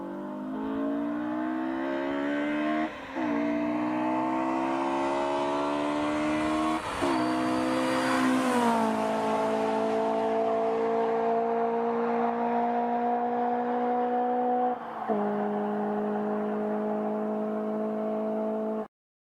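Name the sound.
car moving very fast, accelerating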